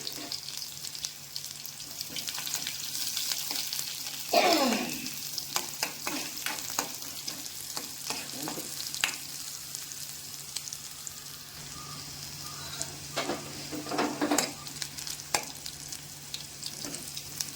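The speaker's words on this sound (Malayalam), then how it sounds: "അപ്പോൾ കടുക് പൊട്ടിയിട്ട് നമ്മൾ അതിനകത്ത് ചേർക്കുന്നത് ചെറിയ ഉള്ളിയാണ്. ചെറിയ ഉള്ളി നമ്മൾ നന്നായിട്ടത് മൂക്കണം." Small shallots sizzle and fry in hot oil with popped mustard seeds in a pan, a steady crackling hiss broken by repeated scraping stirs of a spoon, close up with no talk.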